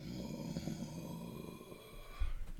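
A voice imitates a creature's heavy, snoring breaths with a low growl on the inhale, continuous and fairly quiet, ending in a louder guttural snort.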